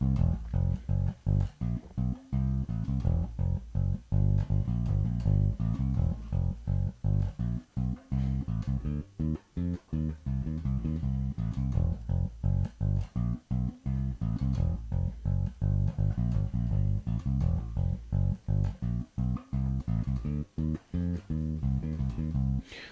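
Bass guitar playing a bass line, a steady groove of punchy, evenly plucked low notes with small flourishes, fairly quiet and played alone throughout.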